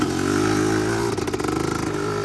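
A Honda TRX250R ATV engine with a rebuilt top end runs steadily and loudly, close by while being ridden, its tone pulsing and sputtering toward the end.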